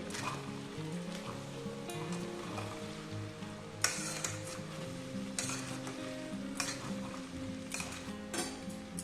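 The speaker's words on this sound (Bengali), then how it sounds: "দিয়ে দেবো টমেটো সস দিয়ে দেবো একটু আর দেবো একটু সয়া সস মিলিয়ে নেব ভালো করে" Pasta with tomato sauce and soy sauce is stirred in a pan, soft sizzling under repeated scraping strokes of a utensil against the pan at an even pace, fairly faint, no voices.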